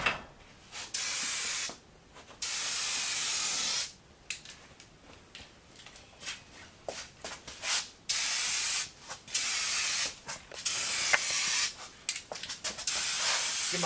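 An aerosol spray can puts a second light coat of paint on parts of a restored 1966 vehicle. The hiss comes in repeated bursts, some short and some lasting about a second, with quiet gaps and small mechanical clicks between them.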